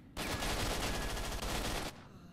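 An AK rifle fires in S.T.A.L.K.E.R., a sustained, loud, close burst of fully automatic gunfire lasting nearly two seconds, then cutting off sharply.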